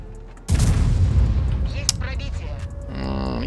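Tank gunfire in the video game World of Tanks: one loud, sudden cannon blast with a long decaying boom and rumble, followed by fainter game effects.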